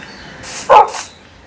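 Dog barking in Minecraft, a single short game bark with a brief yip before it, loud and close, alone without speech.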